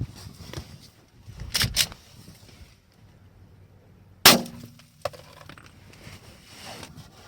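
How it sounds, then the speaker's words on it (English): A single sharp crack of a G9 Defense 9mm hollow point round fired through a car windshield outdoors, preceded by faint metallic clinks and followed by quiet ambient rustle. "I was shooting at that orange dot through this windshield at the sharp oblique angle."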